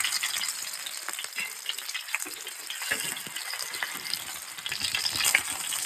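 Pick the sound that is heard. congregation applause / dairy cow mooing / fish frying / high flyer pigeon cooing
fish frying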